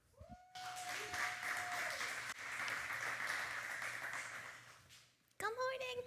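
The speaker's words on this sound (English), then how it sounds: "Let's clap it up for Hannah." Audience applause breaks out for a presenter at a casual gathering, a steady wash of clapping that holds for several seconds, with brief voices and tonal vocal sounds at the start and end.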